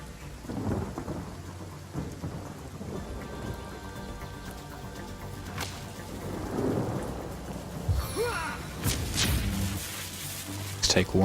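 Rain spell crackling with thunder in the Divinity: Original Sin video game, a steady wash of rainfall under low rumbling and sharp cracks of thunder, with someone talking over much of it.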